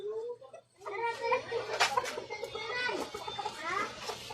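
A chicken clucks in repeated short bursts close by, mixed with children's voices chattering over it and a steady low hum underneath.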